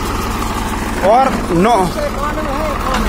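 A 1991 Swaraj 735 FE tractor idles with a steady low diesel rumble, heard close under someone talking over it.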